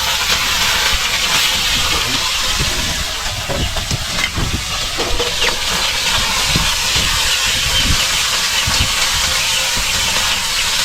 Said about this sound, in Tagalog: Ito, iprito natin yung isda.